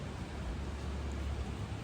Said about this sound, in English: raining now.